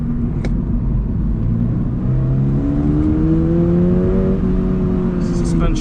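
A Toyota GR86 engine with stock exhaust hums and rises in pitch as it revs up through the gears, steady and fairly loud, with a voice talking over it.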